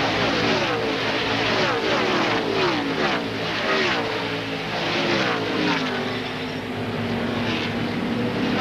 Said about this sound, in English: almost every caution flag NASCAR puts a jet blower on the speedway to blow